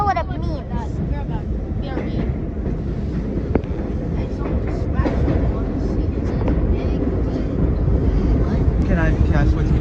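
Ride inside a rocking R33 subway car, with a steady loud rumble of wheels and car noise throughout and people talking over it.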